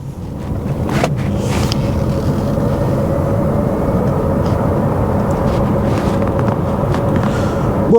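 Wind rushes around the side mirrors of an electric Renault 5 on the move, a steady, unbroken hiss over a low road rumble that fills the cabin from start to finish.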